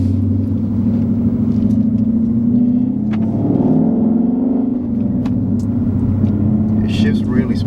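A 2019 Ford Mustang GT Premium with a six-speed manual gearbox drives along, its V8 giving a loud, steady low rumble with a brief rise in revs midway.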